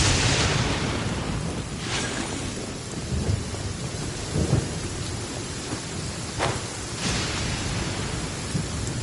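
Thunderstorm in a PS4 video game: steady heavy rain hiss fills the scene while several low thunder rumbles and sharp cracks roll in at intervals, loud and continuous with no talking.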